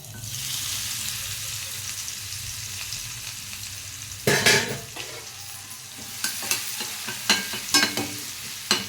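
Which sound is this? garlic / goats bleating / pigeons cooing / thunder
garlic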